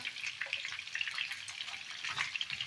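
Pork ribs stewing in rendered fat with garlic and onion, a steady close sizzle and bubbling crackle that holds level throughout with no voices.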